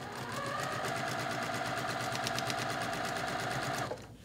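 A sewing machine stitches a clamshell quilt with a steady, fast mechanical whir and rhythmic needle chatter, running evenly for several seconds before stopping abruptly.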